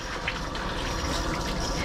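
Clean soapy water from a dog bathing system pours continuously over a schnauzer, a steady, even rush of spray with no pauses and no talking.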